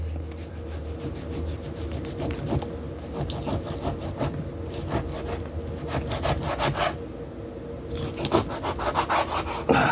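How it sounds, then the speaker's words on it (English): A knife cuts a cheap beef round rump roast into thin steak slices, giving repeated rasping, sawing strokes at close range, steady through the whole stretch with no talk. "So I'm gonna go ahead and cut myself some steak slices."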